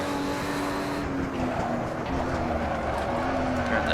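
Porsche 935 Moby Dick turbocharged race car engine in Assetto Corsa, running steadily in fourth gear with a continuous loud drone and slight pitch shifts, with no talk over it.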